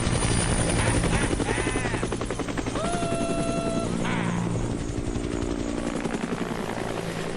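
A military helicopter in the video game Dead Rising drones steadily with a loud, continuous rotor chop, while short electronic tones sound briefly partway through.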